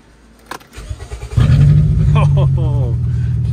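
A car engine cranks briefly with a few clunks, then catches and settles into a loud, steady idle up close, with a voice speaking over the running engine.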